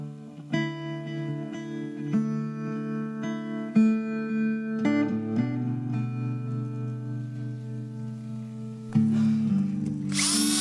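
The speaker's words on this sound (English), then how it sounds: "Once we've got the roof sheet in position, we drill" A power drill whirs in several short bursts through a vintage caravan roof sheet, pitch shifting as it bites, with brief pauses between runs and a harsh noise at the end.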